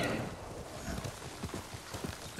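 Horse hooves clip-clop at a steady trotting rhythm in the video game Ghost of Tsushima, fairly soft and muffled under a faint background ambience.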